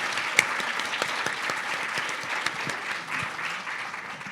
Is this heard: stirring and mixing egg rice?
no